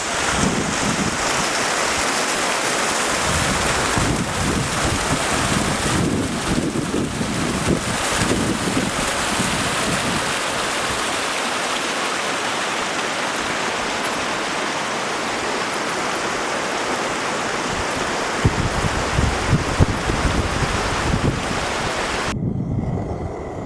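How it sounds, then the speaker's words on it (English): Strong, steady wind at a mountain camp in Pioneer Basin, roaring and gusting without a break for over twenty seconds and buffeting the microphone, with no voices. "Still a little breezy here tonight, which I guess I expected."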